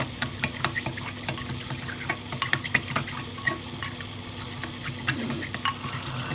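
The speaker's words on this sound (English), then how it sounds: "you really need to mix it really well with the vinegar. Keep on mixing." Honey and vinegar stirred together, a utensil clicking and scraping in steady repeated strokes against the container, close and moderately quiet.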